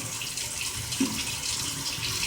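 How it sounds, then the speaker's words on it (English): Boiled water pours steadily into a sink with a continuous splashing rush, close and fairly loud, with a brief clunk midway. "my water is boiled, so I just pour it out"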